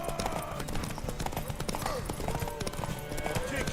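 Horse hooves clip-clop at a steady gallop in The Witcher 3, mixed under game music, ambient noise and overlapping voices of characters talking.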